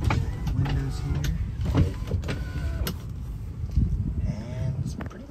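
Power windows on a 2005 Toyota Tundra Extended Cab motor up and down inside the cab with a steady electric whir, interrupted by several thumps and clicks as the glass stops.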